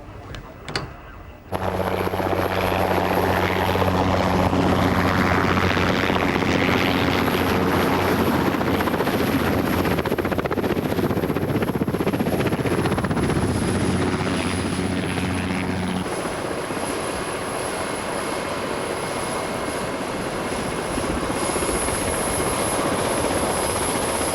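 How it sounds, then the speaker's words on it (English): An air-sea rescue helicopter's heavy rotor thump and engine whine fill the air loudly and close by, holding steady before the pitch shifts slightly as it flies out to sea. "having been loaded into the helicopter, is flown out to sea by the Air-Sea Rescue Services"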